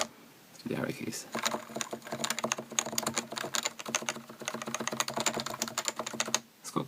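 Arrow keys on a Topre keyboard are pressed rapidly and repeatedly, giving a steady stream of close, muted thocky clacks that runs for several seconds after a brief pause.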